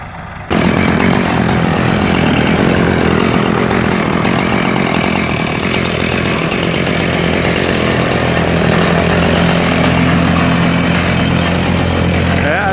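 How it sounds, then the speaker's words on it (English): A chainsaw or power equipment roars continuously at close range after a brief quiet start, loud and steady with little variation through to the end. "I just finished cutting down trees here"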